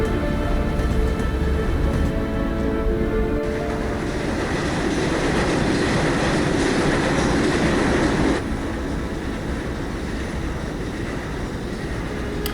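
Train in Final Fantasy VII running on its tracks, a steady rolling rumble with rail clatter and mechanical hum that holds loud and even throughout, with no voices.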